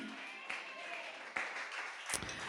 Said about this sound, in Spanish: Dale un aplauso al Señor, por favor, a su nombre